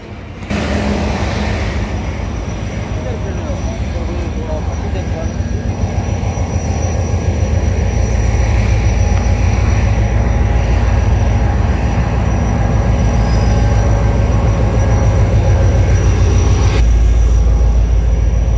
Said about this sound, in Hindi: तो ये आप देख सकते हैं हज़ारा एक्सप्रेस आ रही है ट्रेन